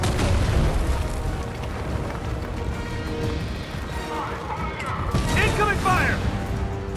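Incoming fire and explosions during a Fortnite event roar as a continuous, loud, booming rumble, with denser blasts near the start and again toward the end.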